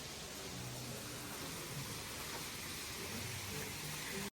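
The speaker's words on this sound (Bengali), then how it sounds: "এতটাই জোরে বৃষ্টি হচ্ছে যে মনে হচ্ছে এখানে আটকে যেতে হবে।" Heavy rain pouring steadily in Windermere, England, a continuous even hiss of broadband noise with no break, fairly close and alone.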